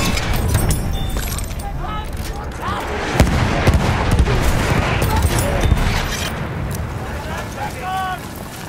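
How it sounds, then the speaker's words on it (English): Battlefield 1 combat with dense bursts of gunfire, including machine gun fire, rattling continuously under chaotic battle noise, with voices calling out over it. "Feindliches Maschinengewehr!"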